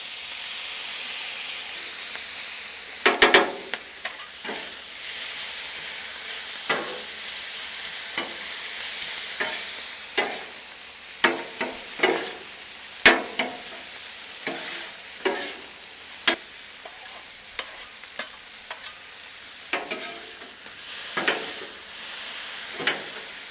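Pork fried rice with garlic and soy sauce sizzles on a Blackstone griddle, a steady hiss broken by frequent sharp scraping and stirring clatters from a spatula.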